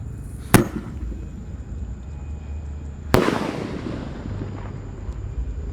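An Elang Emas firecracker rocket cracks sharply at launch and then bursts with a louder boom that rumbles and fades, two distinct bangs a few seconds apart over faint outdoor background.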